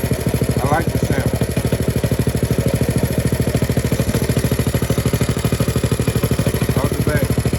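A motorcycle fitted with a VM22 clone carburetor idles close and loud with a steady, even rapid chug, a few faint higher squeaks rising over the throb.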